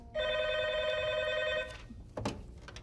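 An old-style telephone bell rings in one sustained burst of about a second and a half, close and loud, followed by a brief clatter as the receiver is picked up.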